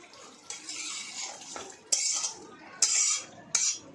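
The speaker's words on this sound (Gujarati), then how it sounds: "આ રીતે હવે તેને આપણે મિક્સ કરી લઈશું" Paneer is mixed into butter masala gravy in a pan, heard as a few separate bursts of wet scraping and clanking from a metal spoon against the pan, close and with no talk.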